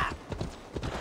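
Rapid clip-clop of horse hooves at a gallop in the video game Assassin's Creed Valhalla, a quick uneven rhythm of thuds close by, fairly loud and steady over about a second.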